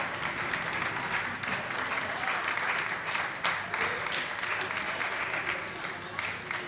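Spectators in the stands at the 2024 World Paniez Trophy final, France versus Spain, applaud steadily as French player Cédric Lavallée enters first, a dense, even wash of clapping lasting throughout.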